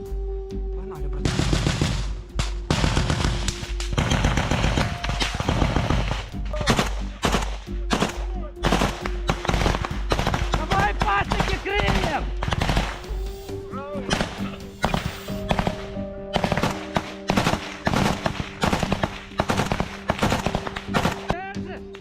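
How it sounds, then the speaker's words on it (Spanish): Loud, close gunfire in a forest during a combat ambush between Russian and Ukrainian soldiers: long bursts of automatic fire mixed with single shots, continuing almost without pause, with voices shouting underneath. "De repente hay disparos y violencia en medio del bosque."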